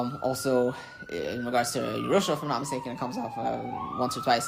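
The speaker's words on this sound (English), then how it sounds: "Excuse the siren in the background." A police-type siren wails steadily in the background, its tone slowly rising and falling, while someone talks continuously in the foreground.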